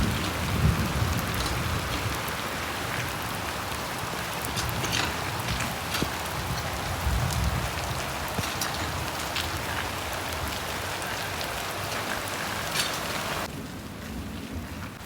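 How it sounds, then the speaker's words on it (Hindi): Heavy rain pours steadily in a village during summer, a dense continuous hiss of drops on surfaces with occasional louder patters, holding constant throughout before thinning slightly at the very end. "फिर से तेज़ हो गई है बारिश।"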